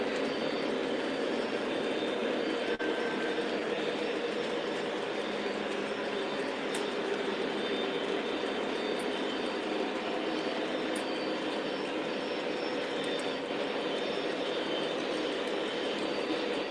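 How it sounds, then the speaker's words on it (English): A steady, broad rumble of passing trains rolls on continuously, a constant mechanical roar with no voices. "Tell me if you guys can hear the trains."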